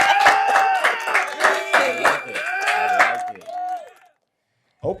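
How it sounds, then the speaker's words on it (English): A podcast audience gives a round of applause, rhythmic clapping mixed with cheering voices that carries on for about four seconds, then cuts to silence before a brief sound at the very end. "let's give a round of applause for that one"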